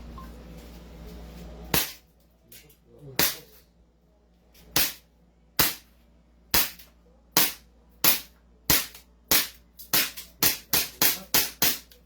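A Glock 17 replica pistol fires a string of sharp, loud cracks, first spaced out and then in quick rapid succession, about fifteen shots in all, with no one speaking.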